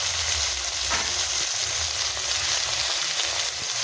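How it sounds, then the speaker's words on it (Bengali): Potatoes and onions frying together in a pan with chopped green chillies added, a steady close sizzle running throughout with no talk over it. "কি সুন্দর আলু পেঁয়াজগুলো ভেজে নিচ্ছি"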